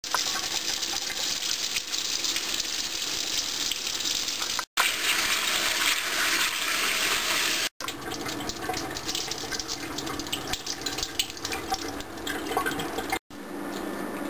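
Soaked pinto-style homemade beans are rinsed under running tap water, a continuous rushing splash with a few brief pauses, alone without talk.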